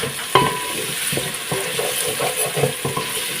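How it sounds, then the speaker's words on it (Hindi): Onions with ginger garlic paste frying in a pan, a steady hiss and sizzle with repeated scraping strokes of a stirring spoon, close and moderately loud with no talk. "इसे 4-5 मिनट के लिए भूनेंगे ताकि अदरक लहसुन की कच्ची कच्ची स्मेल ना आए।"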